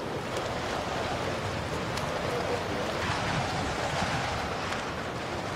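Steady roar of wind and surf, a continuous wash of crashing water with gusty wind noise buffeting the microphone.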